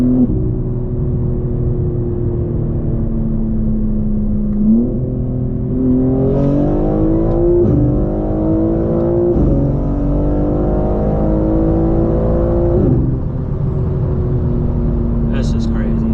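A 750 hp BMW G82 M4 Competition running on E85 accelerates hard through several gear changes, its loud, close engine note rising and dropping in repeated sweeps, with talk heard over it.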